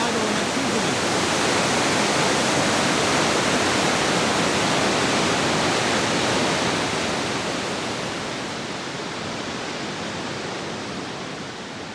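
A waterfall near Thunder Bay, Ontario, with flow reduced by hydroelectric use, roars as a loud, dense, continuous rush of falling water, steady throughout and easing slightly toward the end.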